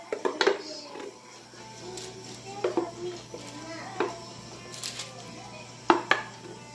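Spoon scraping a cheese-and-seasoning food product out of a dish, several short clinks and scrapes against the dish at uneven intervals, close, over a faint background hum with a little talk.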